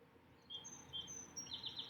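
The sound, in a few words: birds chirping outdoors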